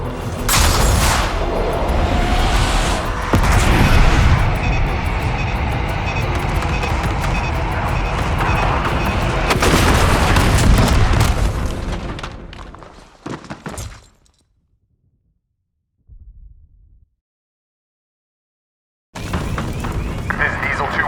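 Airstrike bombs exploding in the Call of Duty Black Ops 6 video game, a dense run of loud booms and gunfire-like blasts that cuts off into silence with a brief thud afterward.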